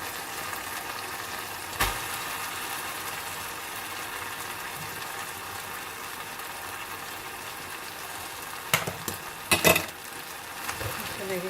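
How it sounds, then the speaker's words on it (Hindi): Previously boiled rice is stir-fried in a pan for egg fried rice, giving a steady soft sizzle with occasional scraping and clinks of the spatula against the pan, and a few louder stirring knocks near the end. "यहाँ पे मैं शामिल करूँगी चावल, तो मैंने पहले से बॉईल करके रख लिए थे।"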